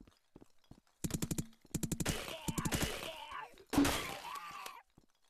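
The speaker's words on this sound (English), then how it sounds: "Shoot him in the chest a few times. Shotgun to the head." Shotgun blasts in a video game boom in rapid bursts with clattering impacts and a groan, loud against an otherwise quiet background, with brief talk mixed in.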